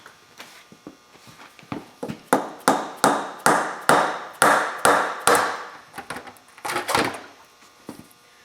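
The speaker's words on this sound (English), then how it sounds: "it's stuck up there, so I'm going to have to get a pry bar here" Metal pry bar working a stuck transmission pan loose under a 2004 Silverado 2500HD with an Allison transmission, a run of sharp knocking and scraping strikes in an uneven rhythm, loud and close with no talk.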